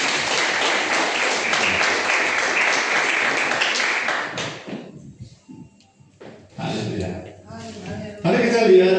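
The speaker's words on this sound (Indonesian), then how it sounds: "Dan beri tepuk tangan bagi Tuhan." A church congregation applauds loudly and steadily during a worship service, the dense clapping filling the first few seconds before fading into a quieter room with scattered voices and movement.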